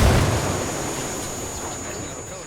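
A grenade goes off in the Ghost Recon video game with a loud, broad blast. The rumble then decays slowly over about two seconds, with no voices during it.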